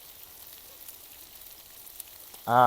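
Poppy seeds fry in oil in a home kitchen, village style, for chicken chops, giving a soft, steady, close sizzle that holds evenly until a voice cuts in at the very end.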